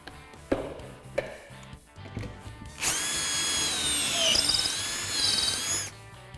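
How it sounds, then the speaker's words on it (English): Power drill boring pocket holes along the edge of a wooden face frame rail: a few short taps and bursts first, then a sustained high whining drill run lasting about three seconds before cutting off. "I'm also going to drill some pocket holes along the edge for attaching it to the top"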